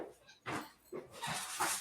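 A dog barks and whimpers in a quick run of four or five short, rough bursts, close by and moderately loud.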